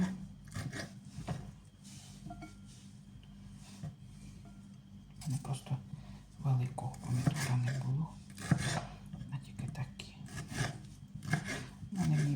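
Tomatoes sliced with a knife for a quick salad, giving a run of soft rasping cuts and board knocks at close range, with a few brief bursts of talk between them.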